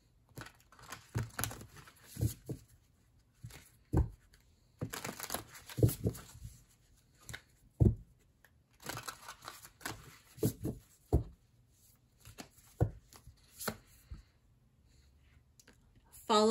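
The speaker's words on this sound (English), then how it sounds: "Still needs a little bit more of a shuffle." Oracle cards being shuffled in short papery bursts, riffles and taps coming in irregular clusters at close range, with pauses between them.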